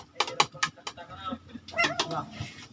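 Close, sharp clucks and short bird calls come in bursts, mixed with scattered clatter and a low steady hum in the background.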